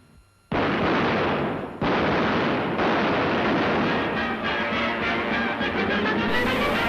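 Gunfire from a western film shootout: a sudden loud, sustained burst of shots and crashing blasts fills the whole stretch without pause, close and dense, with no talking.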